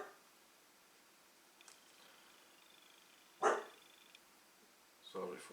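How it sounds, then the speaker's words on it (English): A pet dog indoors gives a couple of short, sharp barks separated by quiet stretches, faint whimpering between them. "Sorry for the noise of my dog."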